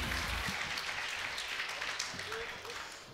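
Audience applause at an esports event for Rocket League, a dense wash of clapping heard at a distance throughout, with voices talking faintly underneath.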